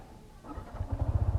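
A 2020 Yamaha XSR 155 motorcycle engine cranks and catches, then settles into a steady throbbing idle, close by with no talking.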